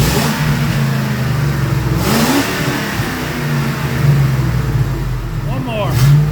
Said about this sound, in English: Go ahead and rev it, James.